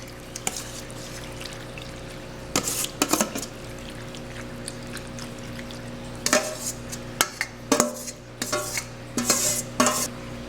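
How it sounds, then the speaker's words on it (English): Baked macaroni and ground beef is scraped and spooned into a baking dish, with intermittent clatter of a utensil on cookware and soft wet thuds over a steady background hum. "Now we're going to transfer it to a baking dish."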